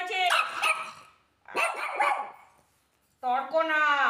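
A pet dog barks in three loud, close bursts separated by short pauses, each burst a run of sharp barks and yips with a growly edge.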